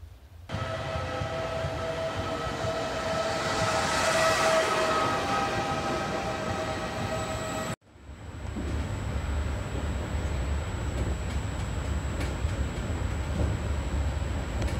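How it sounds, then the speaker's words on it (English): A train passing at a station in Italy, loud and close, with a sustained tonal horn or whistle over rolling rumble, then an abrupt cut to steady wheel and rail noise continuing to the end. "Just waiting for my train."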